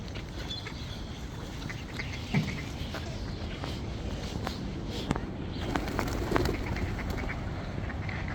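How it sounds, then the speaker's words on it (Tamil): Ducks quacking among pigeons at an outdoor bird feeding spot, scattered quacks and wing flutters over a steady outdoor background, fairly quiet. "புறா நிற்குது"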